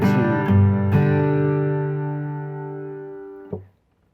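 Solo guitar playing a bass note on G with a strummed chord, moving to C and back to G; ringing, sustained chords struck three times, close and alone, the last chord cut off abruptly.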